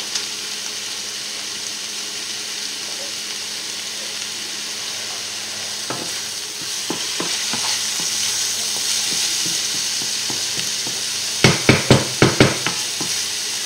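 Salmon risotto sizzles steadily in a pan as it cooks, a constant bright frying hiss that swells slightly, broken near the end by a quick burst of sharp spoon scrapes and taps, with no voices.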